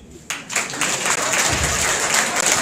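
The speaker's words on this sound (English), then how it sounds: "let's cheer them up with a very sounding round of applause" Audience at a university convocation inter-faculty debate bursting into applause, a dense, loud wash of clapping that starts abruptly and holds steady.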